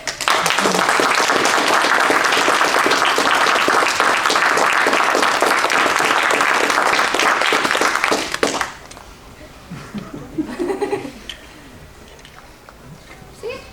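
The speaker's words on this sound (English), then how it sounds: "A big applause for Flitterkriz" Sustained, dense audience applause fills a PonyCon Holland 2023 convention panel hall for Flitterkriz, holding steady for about eight seconds before dropping off sharply to a quiet room with scattered low voices.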